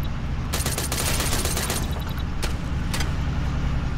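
Bursts of automatic gunfire in the military shooter ARMA 3, rapid broadband cracks in clustered volleys over a steady low vehicle engine rumble, fairly close and loud with short gaps between bursts.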